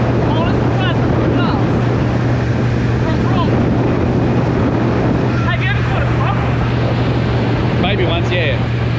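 A small motorboat engine drones steadily while the boat runs on open water, a constant low hum under wind buffeting the microphone, with faint voices talking now and then.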